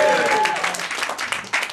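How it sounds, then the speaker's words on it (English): Comedy club audience at a Saturday night show applauding together, a dense, steady wash of clapping that stays loud and close for the whole stretch, with some voices mixed in. "Give yourselves a huge round of applause for coming out to Grenade on a Saturday."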